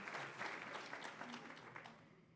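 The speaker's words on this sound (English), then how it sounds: "That's right, that deserves an applause." An audience at a university election-outlook event applauds, a short, faint patter of clapping that holds steady and then tapers off.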